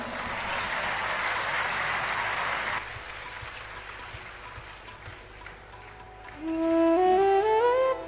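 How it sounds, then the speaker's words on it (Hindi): Audience applause at a Hindu religious discourse (katha), a broad sustained clapping that fades after about three seconds, followed by a quieter stretch and then a singing voice with accompaniment near the end. "एक बार बजाइए ताली इस पर।"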